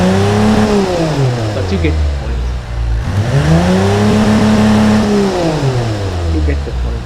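A Chevrolet 250 CID inline-six revs up and back down twice in smooth, sweeping rises and falls, loud and close. Someone talks briefly over it.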